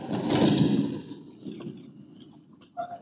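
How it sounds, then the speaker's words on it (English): A locked door in the Resident Evil 7 video game rattles and scrapes as it is tried, a loud close burst fading into quieter clunks, followed by a short mechanical knock. "I can't even open the door."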